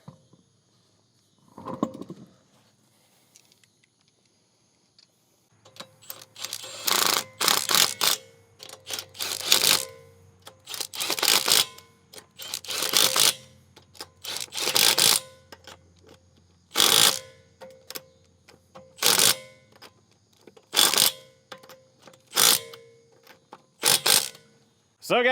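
Car wheel lug nuts on a Subaru Crosstrek Hybrid being torqued with a ratcheting wrench, rhythmic bursts of clicking repeated many times at close range after a brief spoken remark.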